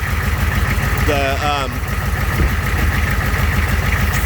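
An M1152 Humvee truck engine idles with its turbo exhaust disconnected, a steady low rumble and rough exhaust throb; a brief squeal sounds partway through.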